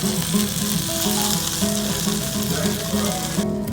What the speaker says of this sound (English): And then we will move this to the hot pan.